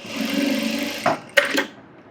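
A sewing machine stitches piping onto a blouse, running as a steady close whir for about a second before stopping, followed by a couple of sharp handling clicks and clacks.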